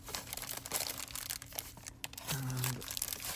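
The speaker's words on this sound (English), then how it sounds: "So let's just cut the box." A cardboard box holding a 1997 SEGA Neon Genesis Evangelion Rei Ayanami figure is cut open, with close crinkling, scraping and tearing noises and a brief higher squeak partway through.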